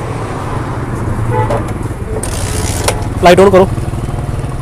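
A motorcycle engine turns over and runs at close range in a roadside setting with traffic around, while someone speaks and a horn toots briefly near the end.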